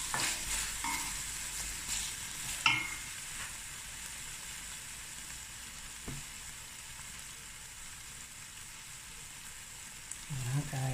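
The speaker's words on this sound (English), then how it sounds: "the more you braise your meat with your onions, the more you develop flavor and color" Meat braising with onions in a pot for a Cape Malay sugar bean stew, a soft continuous sizzle and hiss with a few faint clinks and stirs, fairly quiet.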